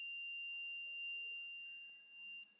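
Buzzer on an MQ2 gas sensor alarm circuit, set off by a high gas reading: a faint, steady electronic tone holding a single pitch the whole time, with low background hiss.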